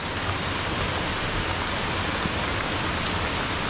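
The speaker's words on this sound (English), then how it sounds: "I like the fact that it's raining." Steady, dense hiss of falling rain, constant and even throughout with no distinct drops standing out and no voices.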